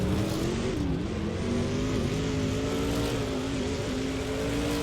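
Trans Am race cars roar continuously at Grindelwald in a racing video game, engines droning loudly with shifting pitch as they pass, with no voices.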